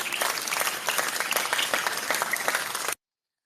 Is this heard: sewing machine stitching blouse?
no